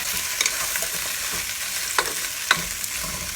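Ingredients, including sausage and mushrooms, sizzle steadily in a hot pan, with a few sharp stirring clatters and taps over the continuous close frying hiss and no talk.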